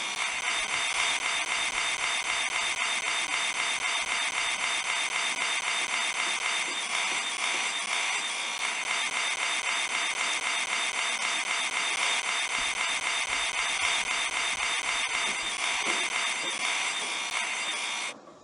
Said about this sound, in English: Use your circular saw to cut the pieces for your wagon.